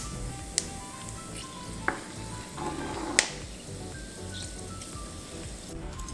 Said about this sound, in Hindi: इसमें डालें 1/2 टीस्पून क्यूमिन सीड्स, ज़ीरा और सारे खड़े मसाले और इसे धीमी आंच पे क्रैकल करें